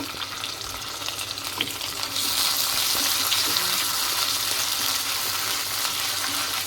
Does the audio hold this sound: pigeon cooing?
no